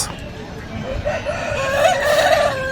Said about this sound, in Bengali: এই মুরগিটা দেখুন, 2 হাঁসলা মুরগি